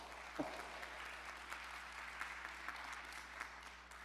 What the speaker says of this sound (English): We have to give her applause.